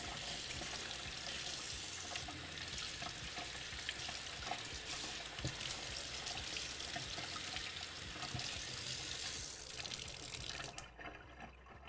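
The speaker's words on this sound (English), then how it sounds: "Rinse that so it doesn't get all stuck in." Water runs steadily from a kitchen sink tap while clams are rinsed, a continuous close splashing flow that cuts off near the end.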